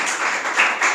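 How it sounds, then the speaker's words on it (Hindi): A short burst of clapping from a seminar audience welcoming a speaker at a national unity event, a dense patter of many hands lasting only about a second. "जोरदार तालियों के साथ आप आशीष का स्वागत करेंगे"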